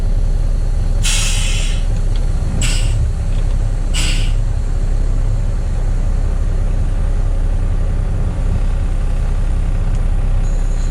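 A straight-piped Kenworth C500 waste bin delivery truck idles with a loud, steady diesel rumble, punctuated by three sharp hissing bursts of released air near the start, all close by with no talk.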